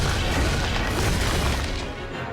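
A Winx Club cartoon magic attack lands as one loud, sustained booming blast with a crackling, rumbling burst that slowly fades.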